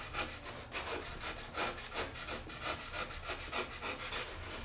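Close, rhythmic hand-saw strokes cut through thin wood along a scribed line for a model aircraft part, roughly a dozen quick rasping back-and-forth passes at a steady pace, quiet and alone.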